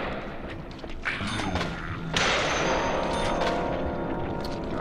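Gunfire in the video game Deadly Premonition, a run of sharp shots and thuds over a busy game soundscape, with a louder, denser burst of firing in the second half.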